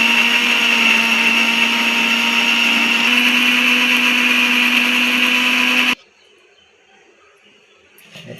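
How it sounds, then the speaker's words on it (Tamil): A loud, steady mechanical whir of a mixer grinder grinding ingredients for Katla fish curry runs for several seconds, then cuts off abruptly, leaving near silence with a faint rustle. "மிக்சியில் அரைச்சி எடுத்துக்கணும்"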